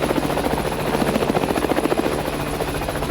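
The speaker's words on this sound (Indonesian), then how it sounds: "sampai di sini ya dari atas helikopter ini" Rapid, steady rotor chop from a helicopter in flight dominates throughout, loud and close as if heard from on board, with a continuous engine whine beneath.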